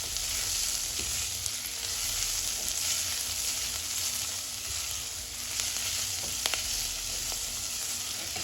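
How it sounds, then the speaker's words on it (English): Onions, garlic and hot pepper fry in a pan for a vegan coconut tomato stew, giving a steady close sizzle with occasional soft stirring clicks and no talking. "see your onions getting softer and slightly brown before you add your garlics and your hot pepper"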